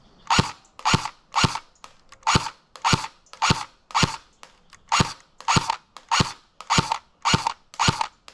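A roughly $300 airsoft gun fires at a target from 30 feet, giving about fourteen sharp, evenly spaced cracking shots in a steady rhythm, close and crisp, with no talking.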